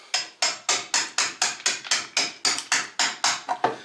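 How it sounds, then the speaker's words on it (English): A blunt chisel is struck repeatedly to force old putty out of a window frame, giving about fourteen sharp, evenly spaced knocks in a quick steady rhythm, close and clear. "Now I can use this chisel in any direction."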